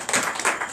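A church congregation at a night deliverance service claps in acclamation, a short burst of loud, close, fairly dense clapping.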